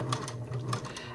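A sewing machine stitches a seam through stretchy yoga-pant fabric while turning it into a dress, a steady low motor hum with a quick rhythmic needle clatter running close and continuous, with no talking.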